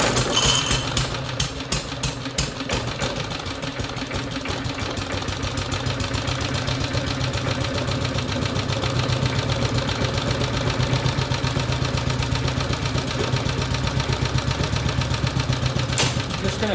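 A BSA Villiers 119cc sloper motorcycle engine fires up on full choke and settles into a steady, rapid single-cylinder putter, close and continuous with slight surges in loudness.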